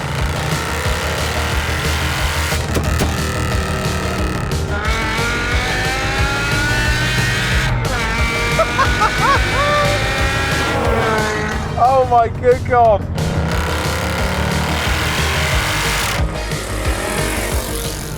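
A 6.2-litre V8 Mercedes and a 5-litre V10 saloon roar and rev hard throughout, with harmonic whines rising and falling as they accelerate; a voice exclaims briefly over the noise.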